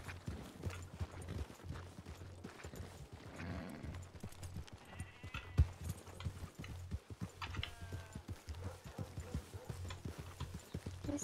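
Horse hooves clip-clop steadily in a 1920s-era roleplay game of RedM, a continuous rhythmic trotting with occasional faint whinnies under a low background hum.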